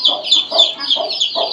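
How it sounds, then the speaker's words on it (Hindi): Several farmyard hens cluck close by in a quick, repeating series of short throaty calls, loud and clear with no talking over them. "ये भी हमारी मुर्गी ड्रैगन है।"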